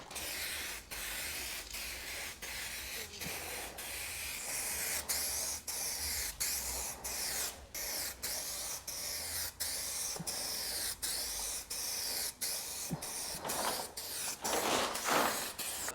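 An aerosol can sprays clear tint coat onto vehicle taillights in a long, steady hiss near the mic, broken by brief regular pauses between passes and swelling louder toward the end.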